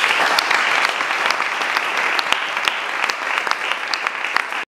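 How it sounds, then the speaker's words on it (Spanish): Audience applause at a panel event, dense sustained clapping from a crowd with scattered sharper claps, loud and continuous for several seconds. "un fuerte aplauso para esta mesa"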